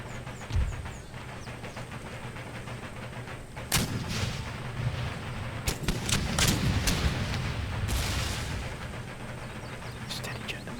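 Troops fire volleys in an Empire Total War battle: scattered musket cracks and deeper booms rise over a steady, rumbling battlefield din, with a dense burst of shots in the middle.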